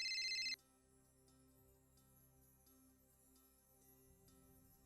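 A phone ringtone sounds briefly and faintly at the start, then cuts off, leaving a quiet background with a soft hum before a short burst returns at the end.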